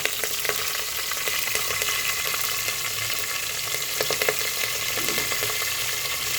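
Dried red chillies and curry leaves fry in oil in a pan while a yellow cucumber dal is tempered, giving a continuous close sizzle with scattered crackles and light stirring sounds.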